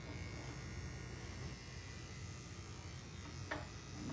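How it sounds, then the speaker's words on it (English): An electric finishing trimmer buzzes steadily while grooming a schnauzer, a fairly quiet, continuous motor drone with a brief brighter scrape near the end. "So we're just going to tighten this up using my little finish trimmer"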